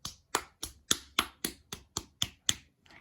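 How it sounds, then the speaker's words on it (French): A person claps alone, about eleven sharp claps in a steady, even rhythm, close and clear with silence between each. "On peut applaudir."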